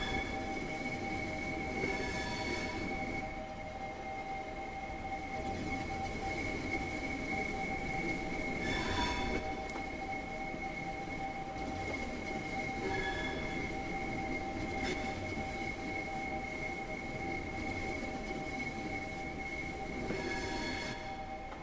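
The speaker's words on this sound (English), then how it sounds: "Alright, wait for this train to pass." A train passing in the video game Train Sim World 2, heard as a long, steady rolling rumble with a sustained high whine and a few brief louder surges, no talking.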